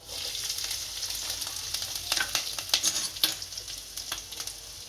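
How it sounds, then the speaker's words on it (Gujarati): Green chillies and cumin seeds sizzle steadily in hot oil for a home-style Gujarati wheat-flour snack, a dense crackling hiss with brief sharper pops and stirring scrapes rising midway, close and alone with no talk. "આની અંદર લીલા મરચાં નાખીશું।"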